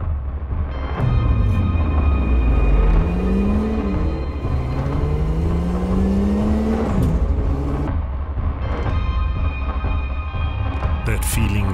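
A sports car, a Ferrari Roma or Aston Martin DBS, drives hard along a curvy road, its engine note rising and falling through several revving sweeps, loud and close throughout.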